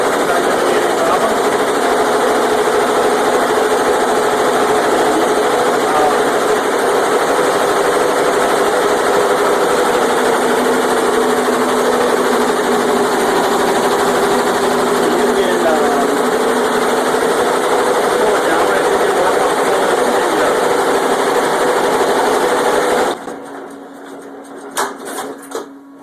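A Tajima embroidery machine sews steadily, keeping up a loud, continuous mechanical whir and rapid needle chatter that runs unbroken for most of the span before cutting off near the end, where only faint clicks remain.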